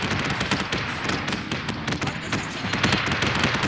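Rapid, dense volleys of ship guns firing in the Battlestar Galactica Deadlock space combat game, loud and continuous with overlapping impact thumps and no pause.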